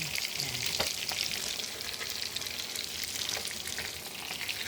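Steady, dense sizzling of pure coconut milk bubbling in a hot frying pan, continuous throughout with an occasional soft pop, no voices.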